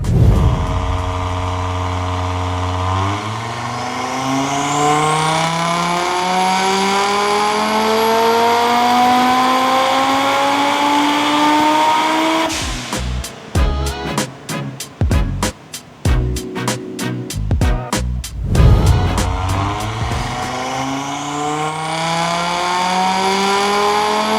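An Audi RS3 8Y.2 with an IMS exhaust and full-frame build revs hard on a dyno, its engine note climbing in long sweeping pulls, breaking into a rapid stuttering burst of pops partway through, then rising again, loud and close.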